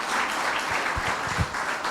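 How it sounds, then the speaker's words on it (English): An audience claps for a girl who has just stood up in a class public-speaking setting, a steady close wash of many hands lasting about two seconds with a few louder low thumps near the end. "She stood up and all clapped for her."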